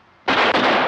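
A single loud gunshot from a 1952 Western film, an abrupt sharp blast after a moment of quiet, with a brief dip and then a lingering roar of report.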